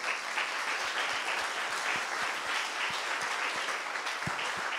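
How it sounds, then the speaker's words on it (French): A congregation applauding steadily and cheering in praise of God at a church talk service, dense continuous clapping filling the room with scattered louder claps throughout. "on peut acclamer le Seigneur"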